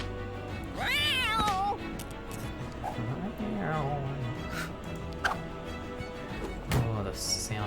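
A cartoonish cat meow sounds in the dungeon-crawling card game Guild of Dungeoneering, a clear rising-falling yowl followed by softer game effects and thuds, with someone talking over parts of it.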